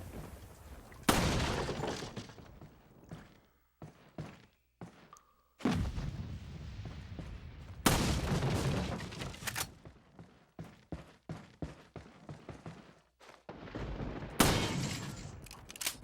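Gunfire and shattering from shooting out a small lantern in Resident Evil 4, Mine Thrower round with stock weapons: loud repeated shots and breaking bursts in clusters, with sharp impacts spread through the stretch and no talk.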